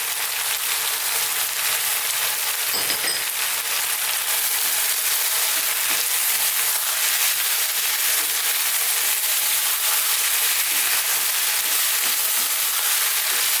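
Beef curry masala with Kashmiri chili powder, turmeric and coriander powder sizzles steadily on high heat in a pan, a constant loud hiss with light scraping of stirring throughout.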